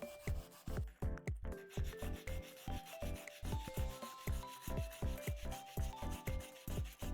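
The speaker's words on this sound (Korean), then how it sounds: "울퉁불퉁한 전복의 표면을 갈아주는 일." Steady back-and-forth scraping of sandpaper against a hard abalone shell, a long run of evenly spaced rasping strokes at close range.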